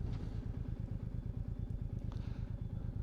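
A Royal Enfield Meteor 350 motorcycle engine thumps at a steady, even idle, its low rhythmic pulse clear and close with no talking.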